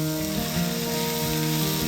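Diced onion sizzles in butter with chili flakes in a pan, a steady close hiss of frying over a persistent background hum.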